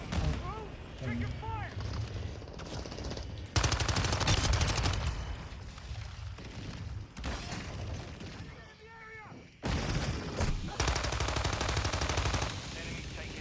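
Video game gunfire, including shotgun blasts, rattles in rapid loud bursts separated by quieter stretches, with game voice lines and a player's speech in between.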